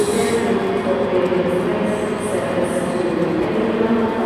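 ScotRail Class 385 train at Glasgow Queen Street station, a loud, steady rumble of wheels and traction with a constant low drone throughout.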